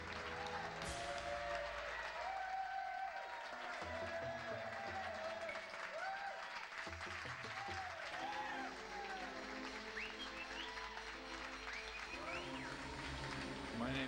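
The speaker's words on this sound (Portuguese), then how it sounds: "Por favor, vamos aplaudir o comediante simplesmente Fred." A comedy show audience applauding a comedian, steady clapping and crowd noise running throughout, with someone speaking over the applause.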